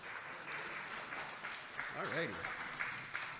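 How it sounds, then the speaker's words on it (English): Brief applause from the audience at a 2022 provincial all-candidates debate in Elgin-Middlesex-London, a modest patter of clapping under a speaking voice. "didn't build in any applause for any of this"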